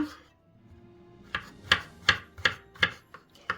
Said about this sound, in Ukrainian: А до нього нам потрібно ще додати шампіньйони. Ми спочатку їх нарізаємо дрібненько.